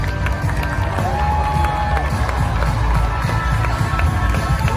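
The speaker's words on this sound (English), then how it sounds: "Another round of applause for the contestants from the Africa and Asia Pacific region." A large pageant audience claps and cheers for contestants at the 2019 Miss Universe competition, a loud, dense roar of applause that stays steady throughout, heard from within the crowd.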